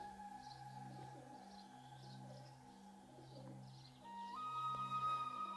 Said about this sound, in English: Oh, those pigeons, oh my God.